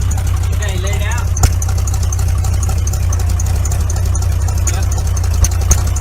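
A 1953 1.5-ton truck engine idles with the PTO engaged, a loud, steady low rumble throughout, with a brief spoken word over it.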